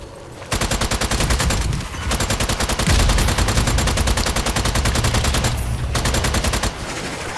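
Rapid, loud automatic gunfire in Strange Brigade horde mode, firing in long rhythmic bursts with short pauses between them and almost nothing else beneath.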